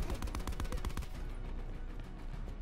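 Rapid, dense bursts of gunfire in a sniping video game, a loud volley of overlapping shots early on that trails off into a rumbling, echoing wash.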